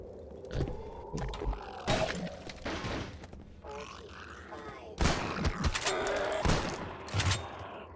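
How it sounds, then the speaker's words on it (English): Shotgun blasts sound in Ravenholm, a Half-Life 2 mod video game, fired as sharp, loud booms at irregular intervals, with grunts and other clatter of combat in between. "Shotgun firing sound could be a little bit beefier"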